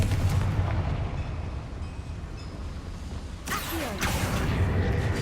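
A Confringo fire spell blast in the Hogwarts Legacy video game, heard as a deep booming rumble with a sharp whooshing burst around the middle, loud and close with no speech over it.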